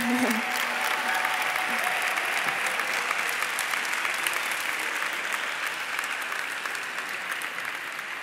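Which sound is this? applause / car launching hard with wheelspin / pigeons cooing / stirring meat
applause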